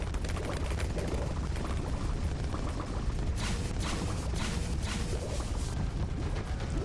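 Dense, continuous barrage of small explosions and popping bursts from the Bomber Ace tower in a tower defense video game, steady and loud throughout with no pauses.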